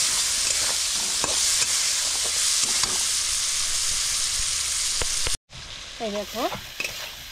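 Papaya and potato vegetarian curry stirred and sautéed in oil in a pan: steady sizzling with scraping spoon strokes, then a brief pause before softer frying resumes under a short spoken remark.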